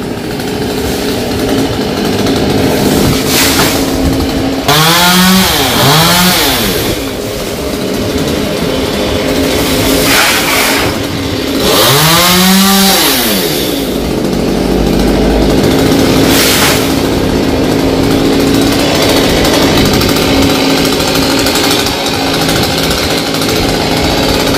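A loud chainsaw drones continuously, its engine pitch rising and falling in a couple of surges as it bites into a king areca palm trunk, with no talking.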